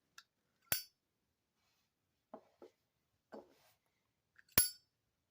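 A brass Zippo lighter with the clear coat removed, its lid clicking open and shut: two sharp, bright metallic clicks with a few faint softer handling taps between, quiet and close.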